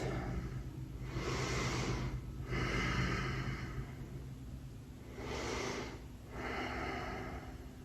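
Deep, slow breaths during a yoga session, four long airy inhales and exhales in two pairs, close and steady over a low room hum, with no talking.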